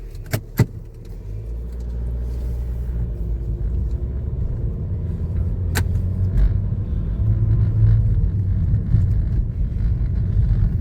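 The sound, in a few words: car driving on mountain road in Spiti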